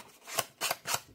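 Scissors snip through card in three crisp, close cuts, each a short rasping slice with a brief gap between.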